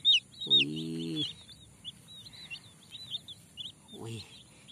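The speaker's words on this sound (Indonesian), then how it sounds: "Wih, ayam warna-warni, teman-teman." Colourful chickens cluck and call in a farmyard, with two drawn-out clucking calls, the first longer, while small birds chirp repeatedly in the background.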